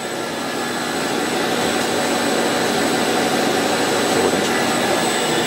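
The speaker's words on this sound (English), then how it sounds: "Because there's the hopper loader pickup. I'm just refilling it now." Hopper loader pickup on a plastic extrusion moulding machine drawing fresh material, a loud continuous vacuum-like roar, close and steady, in a workshop, with no voices.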